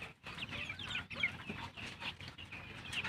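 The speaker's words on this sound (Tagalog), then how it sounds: "Ayan yung mga manok na may lahi Rhode Island na native" Native Rhode Island chickens clucking and chattering close by, a steady busy flock sound with scattered sharper calls, no talking.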